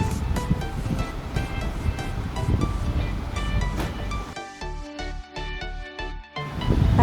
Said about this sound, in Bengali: তেল গরম হয়ে গেছে, ব্যাটারটা দিয়ে দেব।